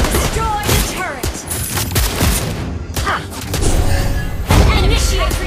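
Rapid gunfire from a character's weapon in a shooter video game, with dense bursts of shots and thumping impacts mixed with game voice lines and effects, loud and continuous throughout.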